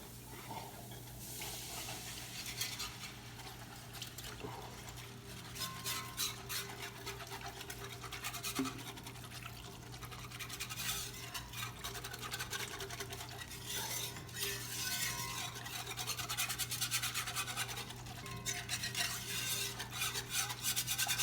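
A spoon stirs grits in a pot for Cajun shrimp and grits, giving faint, irregular scraping and clinking against the metal over a low steady hum, with no talking.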